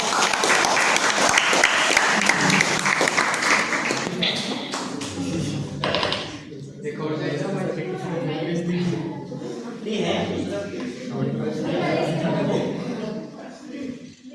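A school farewell audience of students and teachers applauds loudly and close for several seconds, then the clapping thins out as voices take over.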